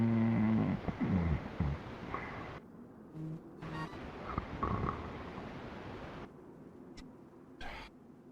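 A brother snoring, slow rough breaths that rise loud at the start and then recur more faintly among quieter gaps, close by and with no talk over them.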